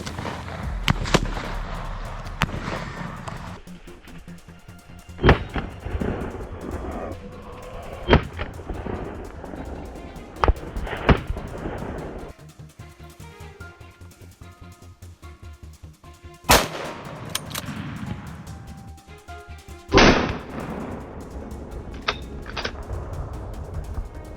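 Sharp, loud gunshots from a wild hog hunt in Texas ring out one at a time at irregular intervals, echoing outdoors, with a few heavier booms among them.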